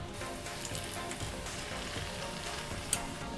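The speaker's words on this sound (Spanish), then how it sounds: "seguiremos friendo así todo el pollo" Chicken pieces frying in hot oil for KFC-style crispy chicken, a steady, close hiss of sizzling throughout, with one brief sharp pop near the end and no talking.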